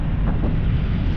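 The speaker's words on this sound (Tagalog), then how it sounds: "sarap ng simoy ng hangin, no?" Steady wind rushes past a truck stop, buffeting the microphone with a close, dense low rumble for a brief moment, no talking.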